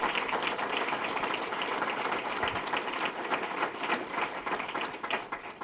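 Steady applause from an audience at a Rochester Institute of Technology trustee meeting, a dense, even patter of many hands clapping at moderate level throughout.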